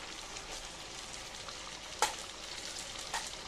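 Onion paste, garlic and ginger sautéing in a pan for a roast, a steady close sizzle with a few soft stirring clicks.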